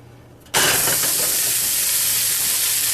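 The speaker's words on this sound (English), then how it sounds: "what we're going to be doing here with this thing is we're going to sear it." A burger patty hits a hot pan and bursts into a loud, steady sizzle that starts abruptly and hisses on without a break, close by, with no voices.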